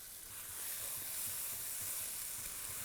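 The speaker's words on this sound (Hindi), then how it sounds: "अभी इस मसाले और पालक की भुनाई is the main story of this dish." Masala and spinach frying in a pan for Old Delhi chole, a steady soft sizzle with faint stirring scrapes, fairly quiet and uninterrupted, no voices.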